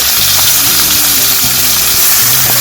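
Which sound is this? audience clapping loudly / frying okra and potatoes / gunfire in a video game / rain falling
frying okra and potatoes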